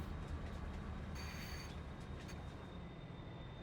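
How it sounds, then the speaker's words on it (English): A train in Farming Simulator 22 rolls along and brakes, a steady low rumble of wheels with a brief bright squeal of brakes partway through, fairly loud and continuous with no talking. "You can't stop a train quickly."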